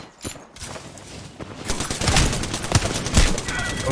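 Rapid gunfire from the shooter game Apex Legends, bursts of shots building into dense sustained fire, loud and close with a faint voice underneath.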